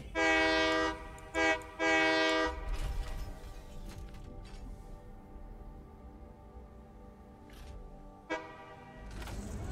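A train horn in the factory-building game Satisfactory, two long loud blasts close together, then a third shorter one, over the rumble of the rolling train.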